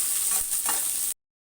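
Onions, green chillies and curry leaves sautéing in a pan for idli upma, a steady close sizzle with a couple of stirring scrapes before it cuts off abruptly.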